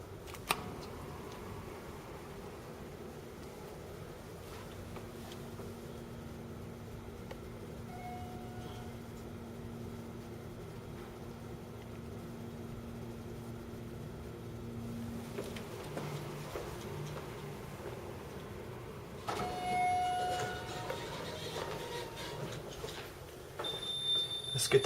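A vintage Westinghouse elevator in an old college technology building arrives and runs, with a low mechanical hum, intermittent clicks and a steady drone, then louder clunks and rattles near the end; faint voices occur in the background.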